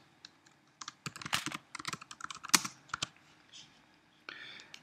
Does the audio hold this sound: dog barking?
no